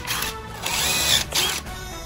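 Power drill driving screws into porch deck boards on an off-grid home build, close and loud: a whirring drive that rises and stalls in short bursts, with brief pauses between screws.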